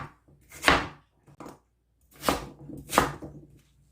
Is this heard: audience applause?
no